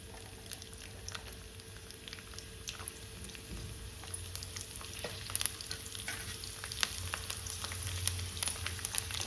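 Garlic cloves fry with cumin and a little mustard seed in a pan, a soft steady sizzle broken by crackles and pops and the occasional scrape of stirring, fairly quiet and close.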